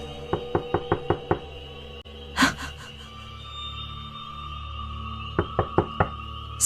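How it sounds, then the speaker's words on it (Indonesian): Knocks on a bedroom door, arriving as a quick run of five or six raps, then a lone thump, and after a pause another rapid group of knocks, fairly close in a quiet room. "Sekarang aku mendengar suara ketukan pintu dari di depan kamarku."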